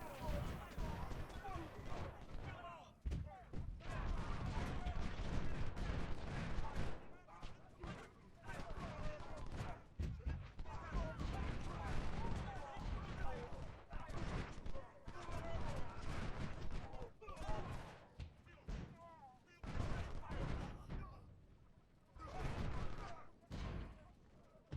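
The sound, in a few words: artillery and rifle fire in a Civil War video game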